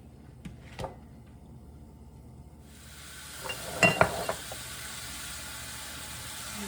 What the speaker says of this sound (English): Browning the turkey